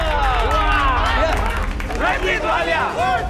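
Clapping for a candidate at a housing society election, steady dense applause from a crowd mixed with chanting and excited voices throughout.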